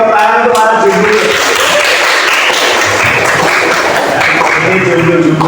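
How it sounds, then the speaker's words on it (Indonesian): Classroom students at a vocational high school clap together in loud, sustained applause, mixed with voices and chatter throughout. "Oke, tepuk tangan untuk para jomblo."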